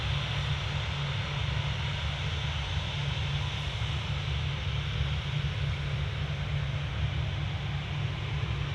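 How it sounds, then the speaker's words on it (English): A Ryanair Boeing 737-800 departs Manchester Airport, its jet engines giving a steady, broad roar that holds constant and fairly distant throughout, with no voices over it. "Ryanair off to Tenerife South. It's 737-800, flight FR 4332."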